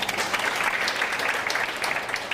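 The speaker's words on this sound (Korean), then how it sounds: "박수 쳐주십시오." Audience applause at a Busan fisheries forum, with fishing cooperative members in the hall clapping together in a thick, even wash for a couple of seconds, close and fairly loud.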